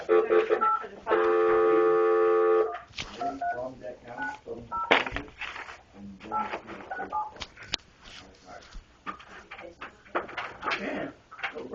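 A telephone keypad sends a quick run of dialing tones while placing a call to someone's mother, followed by close-up talk and background noise.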